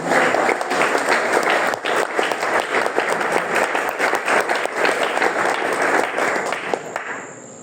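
A church congregation applauds for the Lord in sustained, dense clapping and cheering that fills the room steadily, then thins out toward the end.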